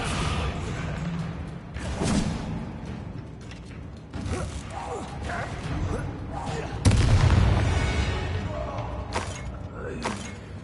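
A Descendo spell effect during a duel in the game Hogwarts Legacy, with creaking, grinding, mechanical movement and scattered impacts. A heavy, loud slam lands near the end, followed by rumbling debris.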